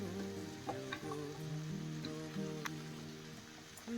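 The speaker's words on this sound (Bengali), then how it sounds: "ভাজা হয়ে গেছে" Bell peppers and capsicum frying in a pan with black pepper, oregano and chili flakes, giving a steady close sizzle with scattered crackles and light stirring clicks, no talking.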